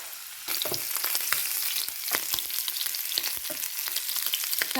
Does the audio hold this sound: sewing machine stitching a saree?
no